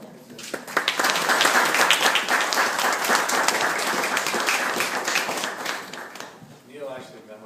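An audience applauds at a ceremony with dense, steady clapping that swells and then thins out, and a voice speaks near the end.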